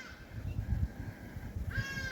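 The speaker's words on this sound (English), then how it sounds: "You can hear the bird life." Birds calling along a riverbank where a river flows past, a crow-like caw standing out among brief calls over a steady low wash of moving water and outdoor rumble, with no talking.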